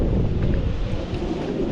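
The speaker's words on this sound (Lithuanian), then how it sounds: "Koks nemalonus vėjas" Rough wind buffets the microphone outdoors at a used-car lot, a loud, continuous low rumble with no voices for the whole short stretch.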